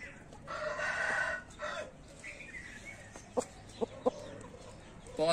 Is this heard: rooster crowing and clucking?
yes